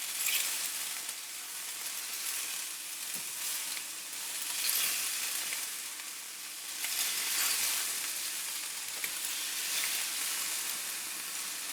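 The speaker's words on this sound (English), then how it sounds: "take the pan I'm just going to cook these until they start to brown" Chicken pieces sizzle and crackle as they brown in a frying pan for coq au vin, a steady hiss rising and falling with occasional stirring, close by and with no voices.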